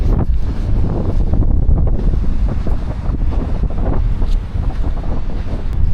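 Loud wind buffets the microphone over the constant wash of sea waves at Fethiye, Turkey, a rough, blustery roar with no speech.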